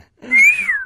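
A man whistles in imitation of a pressure cooker, giving one short, loud, sliding whistle that rises and then falls away, heard alone and close.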